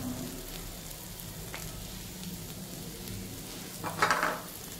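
Dried prawns with salt and chili powder sizzle steadily in a pan for Andhra-style tender tamarind leaf curry, with soft stirring scrapes throughout and a brighter, louder clatter near the end; no one talks.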